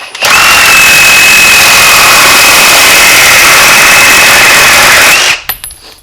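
A Ridgid Gen5X Octane reciprocating saw cuts steadily, a loud, close, continuous high-pitched whine that holds level for about five seconds before stopping abruptly.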